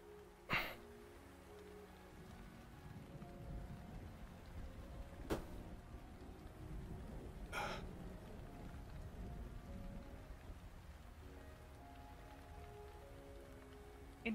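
Steady rain patters across a fantasy roleplay game world, a continuous soft hiss of drops with a few sharper splashes, while music plays faintly underneath.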